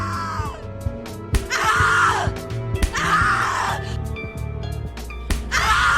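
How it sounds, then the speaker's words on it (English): A woman screams in the horror video game The Cat Lady: several loud, drawn-out cries come in separate bursts, with gasps and strained breaths between them over a low, droning backdrop. "Scream louder, little bitch! Scream your lungs out!"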